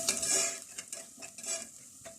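Black pepper, cumin, cloves and garam masala fry in a pan with a hissing sizzle broken by brisk scraping stirs of a spoon, close and moderately loud.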